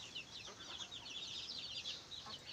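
Many young chicks, the second batch among poultry kept at home, peep in a dense, continuous high chorus of overlapping chirps, steady and close throughout.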